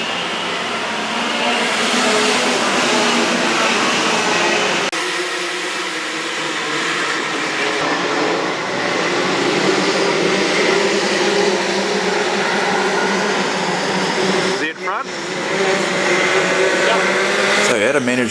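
A homemade electric longtail boat motor running in the dark on a water test, a loud continuous whining drone with shifting tones and a brief dip near the end, close by, with voices faintly mixed in.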